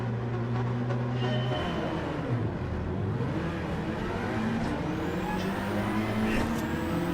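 Racing game cars at the start of a Gr4 league race, including a Mitsubishi and a Nissan S15 on hard tyres, with a steady loud blend of engine drones and shifting revs that rise and fall without pause.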